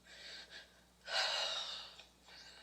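Heavy, labored breathing from a woman in a played video, a few quiet breaths then one loud drawn-out gasping inhale followed by softer exhales, faint and alone.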